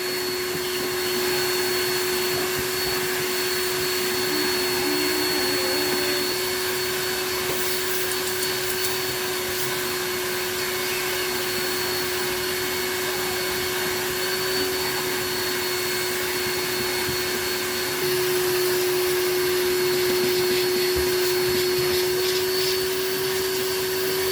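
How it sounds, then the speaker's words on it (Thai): A vacuum cleaner runs steadily and loudly while cleaning the interior of a Mitsubishi EX car with the console and air-conditioning unit removed, a constant whine with a strong tonal hum and no talk. "เราก็จะดูดฝุ่นทำความสะอาดภายในรถให้นะคะ"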